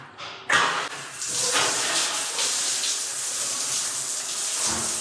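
A shower sprays water strongly in a home under renovation, a steady loud hiss that starts abruptly after a brief quiet moment and runs continuously close by.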